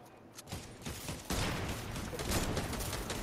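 Gunfire in Fortnite, a dense burst of rapid shots and clatter building in intensity, close and loud, with no voices.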